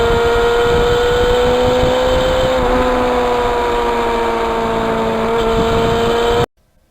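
A 1991 Yamaha FZR 1000 motorcycle engine runs at a steady idle, a loud, close, even drone with a constant tone that cuts off abruptly just before the end.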